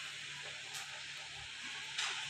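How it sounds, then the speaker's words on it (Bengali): A tempering (bagar) of spices hits hot oil for khichuri, giving a steady close sizzle and hiss throughout with a brief sharper flare near the end. "তো আমি এখন এটাতে বাগার দিব,"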